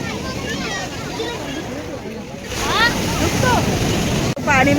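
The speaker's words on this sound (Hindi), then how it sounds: "देखो पानी ऊपर आ रहा है पूरा" Sea water and waves wash against the shore behind Mahim dargah in Mumbai, a steady roar of surf with wind buffeting the microphone while people talk and shout over it.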